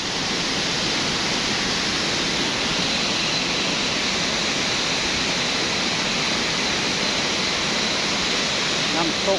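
Tad Siang Lue waterfall in Laos roars as a loud, continuous rush of falling water, a dense unbroken wash of sound close by for the whole stretch.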